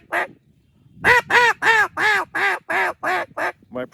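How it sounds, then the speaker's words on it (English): A duck call blows a quick, loud series of nasal quacks, one short note followed by about nine evenly paced quacks close up. "Putting quacks, quack, quack, just putting quacks together."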